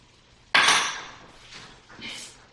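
Sugar and brown sugar are stirred together in a bowl with a utensil, giving a sudden scraping clatter followed by two softer gritty strokes, close and with no talking.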